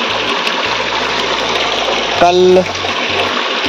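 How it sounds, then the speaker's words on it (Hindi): Water gushes steadily from a village tap with a constant rushing hiss, close and loud, while someone speaks briefly over it. "देखिए आजकल पानी काफ़ी ज़्यादा आता है यहाँ पर।"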